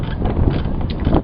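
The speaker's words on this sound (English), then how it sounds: "the wind's kind of windy here." Steady wind blowing outdoors in North Carolina, a continuous broadband rush that buffets a nearby microphone for the whole stretch, with gusty swells and no voices.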